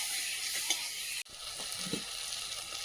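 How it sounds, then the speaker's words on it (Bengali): Vegetables sizzle and get stirred in a pan, a steady frying hiss with a few soft scrapes and a brief cut midway. "সবজিটা ভালো করে কষিয়ে নিয়েছি"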